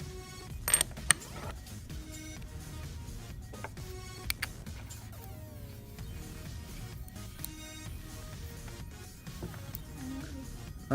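Smok Baby X Priv vape tank being reassembled by hand: small plastic and metal parts click, creak and scrape together in short close-up bursts, with faint threading squeaks and quiet pauses between.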